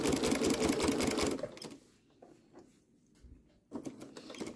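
A sewing machine stitches rapidly through thick layers of a quilted potholder, a fast, loud mechanical patter that stops after about a second and a half, leaving faint handling sounds before the stitching briefly resumes.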